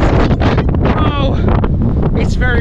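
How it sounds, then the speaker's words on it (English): Strong wind buffets the microphone on a footpath at South Ferriby in North Lincolnshire, a loud continuous roaring rumble with someone speaking over it. "It's very windy."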